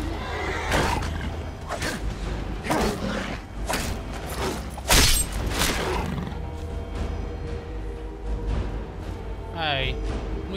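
A dying horse in the video game Skyrim gives a short, strained whinny near the end, following a stretch of busy in-game noise and a sharp impact.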